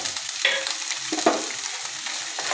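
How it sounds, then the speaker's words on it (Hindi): Capsicum and peas fry in a pan for chicken vegetable soup, giving a close sizzle with scraping stirs and a few light clatters, and no one speaks. "थोड़ी देर के लिए फ्राई करना है, बस 1 से 2 मिनट में इनको फ्राई करूँगी"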